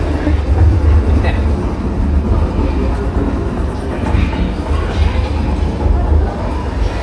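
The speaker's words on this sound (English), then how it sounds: "they really are selling the fact that you're on the train" Loud, continuous low rumble of a simulated train ride at a Harry Potter attraction in Japan, with rhythmic clattering and vibration, and people talking faintly underneath.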